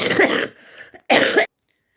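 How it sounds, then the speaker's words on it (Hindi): Two harsh coughs close to the microphone, separated by a brief pause, then silence. "सॉरी, थोड़ी खांसी उठ गई"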